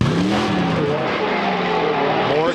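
Buses roar and rev continuously in a figure-8 demolition race, engines loud and close with rising and falling pitch, while an announcer talks over the din.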